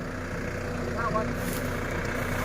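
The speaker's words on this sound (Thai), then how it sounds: "เอารถไถเราก็มาแล้วครับนี่" A farm tractor rolls up to grade a rough dirt road, its diesel engine a steady low rumble close by throughout, with a brief squeal in the middle.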